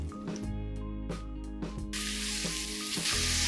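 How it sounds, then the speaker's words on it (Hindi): Lots of sliced onions with a pinch of salt sizzle in a pan over medium to high flame while cooking Punjabi mutton curry, a steady close frying hiss that swells louder near the end, with no talking. "प्याज को 3 से 5 मिनट के लिए कुक करेंगे मीडियम से हाई फ्लेम के ऊपर"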